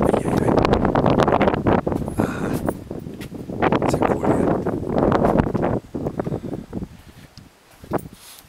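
Gusty wind in a narrow, slot-like passage at the Moon Caves buffets the microphone in loud, rough bursts, easing off and growing patchy toward the end.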